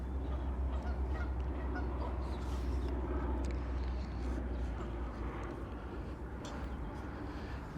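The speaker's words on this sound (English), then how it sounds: "Those are Canada geese." Canada geese honk on a pond, faint and distant beneath a steady low rumble that resembles passing aircraft or highway traffic, with occasional calls rising over the drone.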